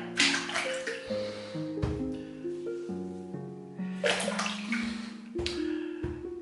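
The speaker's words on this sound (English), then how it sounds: "Just put some water on." Water from a tap runs onto a shaving brush in a sink, a close, steady splash and trickle that shifts in pitch as the flow hits the bristles. It is heard alone, with no talk.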